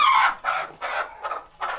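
Roosters on a farm crow and cluck in a rapid string of about five loud, close calls spread over under two seconds, with no talk.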